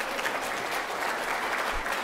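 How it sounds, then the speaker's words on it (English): Audience applause at a CMT patient conference session in Orlando, an even, continuous patter of many hands clapping at moderate loudness with no voices standing out. "Please give her another round of applause"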